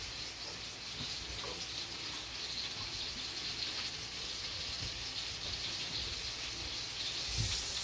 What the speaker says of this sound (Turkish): Salatalıkları tuzla yıkıyorum ben.